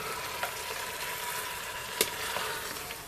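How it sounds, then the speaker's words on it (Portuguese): Vaca Atolada, a beef and cassava stew, is stirred in a pan over steady frying sizzle, with a couple of soft clinks from the utensil against the pan, including a sharper knock near the end. "Agora nós vamos misturar."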